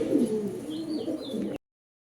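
Soft, low cooing from pigeons offered for sale rolls on steadily for about a second and a half, close by, with faint chirps above, then cuts to silence.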